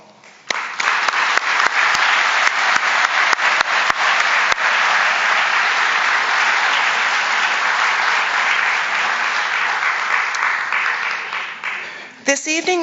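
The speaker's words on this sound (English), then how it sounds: "Let's share a round of applause for all of the artists, performers, and volunteers" A community service awards ceremony audience applauds artists, performers and volunteers with loud, sustained clapping from a large crowd that starts abruptly, holds steady and ends as a voice resumes.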